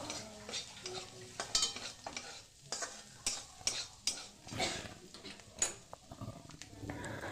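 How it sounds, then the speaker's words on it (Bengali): Cashew nut pieces frying with vegetables in a pan, with steady sizzling broken by repeated scrapes and clacks of a spatula stirring close by, and no talking. "কাজু বাদামটা দিয়ে আর একটু ভাজা করে নেবো"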